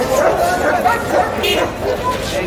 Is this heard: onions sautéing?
no